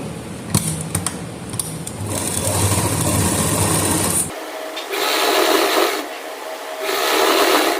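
A sewing machine stitches a salwar, a steady mechanical whir running loud and close in bursts, with a brief pause in the middle before the stitching resumes.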